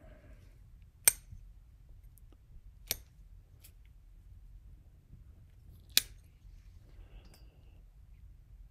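A Civivi Stormhowl knife blade snicks through wire insulation in three sharp, isolated clicks spaced a few seconds apart, crisp and close against a quiet background.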